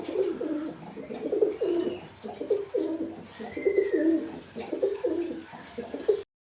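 A pair of pigeons belonging to Ustad Mia Nazir coo steadily in repeated low, throaty phrases, close and fairly loud, with a faint higher call drifting in midway.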